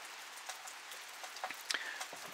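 Steady rain falls at a homestead, a faint, even hiss broken by a few scattered louder drops tapping nearby, with no voices.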